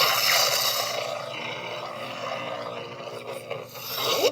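A lightsaber hilt's sound font plays a steady electronic hum with rasping, rubbing swing sweeps that swell and fade, ending in a rising surge, close and with no voices.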